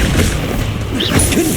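A Stupefy spell impact in Hogwarts Legacy: a short, loud booming hit with a thudding crash, set within ongoing game combat noise.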